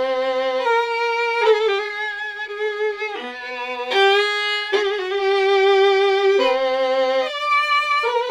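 Red Room Gypsy Fiddle virtual instrument plays resonant bowed fiddle notes, a clear sustained melody moving through held pitches and slides with no talking.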